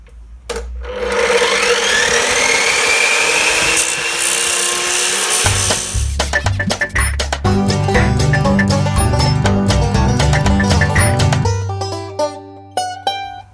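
A power grinder cuts loudly and continuously into an old front suspension link on a Nissan Micra K12, whining steadily before turning to a harsher, chattering grind with brief dips, close up and with no talking.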